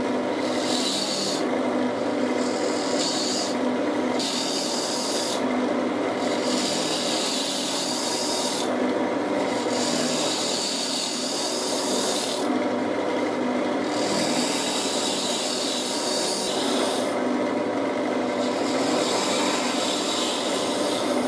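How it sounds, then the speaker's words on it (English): A turning tool hollows out the centre of a spinning wooden stand on a lathe, a steady loud rasping scrape with repeated cutting strokes that rise and fall in rhythmic passes throughout. "I'm going to start by hollowing out the centre so that the heart just sits and drops"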